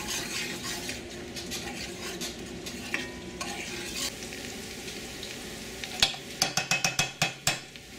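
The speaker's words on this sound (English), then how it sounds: "And just keep stirring it until it turns dark." A spoon stirs flour paste in a pot, browning it into a dark roux for gar fish boulettes, with a steady faint sizzle and scraping, ending in a run of sharp clinks against the pot.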